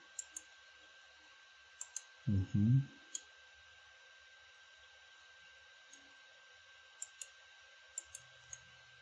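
Computer mouse clicks come as sharp, isolated taps scattered across a quiet room, about a dozen in all, some in quick pairs, with a brief muffled burst of sound early on and a faint steady hum underneath.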